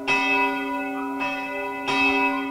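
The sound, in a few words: recorded church bells played from loudspeakers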